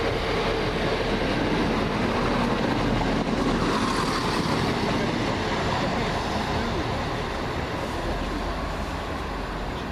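A Class 170 passenger train on the Birmingham New Street to Stansted Airport service rumbles past at Water Orton, a loud, continuous roar of wheels and rails that fills the whole stretch before easing very slightly toward the end.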